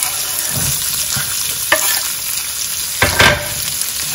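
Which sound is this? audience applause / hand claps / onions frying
onions frying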